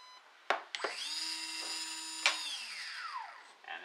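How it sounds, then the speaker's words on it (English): An RC boat brushless motor on an Eachine SS Series 125A ESC whirs up with a high whine after a few beeps and clicks, then coasts down without braking, its pitch sliding gradually lower. "Okay, so no brake, it should spin down."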